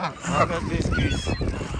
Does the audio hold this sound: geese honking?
yes